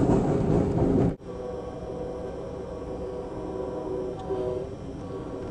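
A steady low rumble of a passenger train rolling along the rails past cypress and rice fields near the Mermentau River, loud and continuous, after an abrupt change in the noise about a second in.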